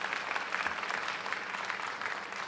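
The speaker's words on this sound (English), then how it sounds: "can we all give the Jersey City Police Department a round of applause?" Audience applauding the Jersey City Police Department at a memorial ceremony, steady dense clapping at a moderate distance, even and continuous from start to finish.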